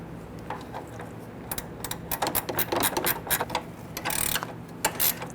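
A ratchet wrench tightens the AC condenser mounting bolts on a 1999-2004 Jeep Grand Cherokee, a quick series of sharp metallic clicks in uneven bursts, close and fairly loud, over a steady low background hum.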